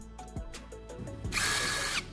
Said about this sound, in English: Now, I'm using a drill to carefully make a few holes at the locations I've marked